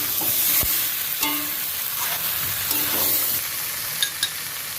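Spice masala with garlic paste fries in hot oil with a steady, close sizzle, broken by occasional scrapes and clinks as it is stirred in the pan for a chicken dish.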